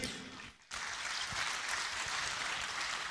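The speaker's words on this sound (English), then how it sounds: "Ladies and gentlemen, a round of applause one more time for His Majesty the King." Distant crowd applause at the Asantehene Otumfuo Osei Tutu II art awards ceremony, honoring the king; a brief dip early on, then a steady, fairly faint wash of clapping from the audience.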